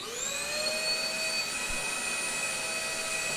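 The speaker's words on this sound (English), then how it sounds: "Vacuum sawdust again." A vacuum cleaner runs steadily while sucking up sawdust in a workshop during the build of a replica ITG2 dance pad with metal strips, giving a constant whining roar throughout.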